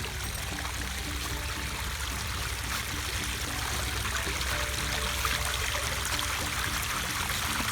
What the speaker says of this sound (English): So now they have this set up like a little water feature here, and it pumps out 50 gallons per minute